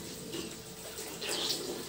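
Water runs steadily from a tap as a child's face is washed, a close, even splashing rush that swells slightly toward the end.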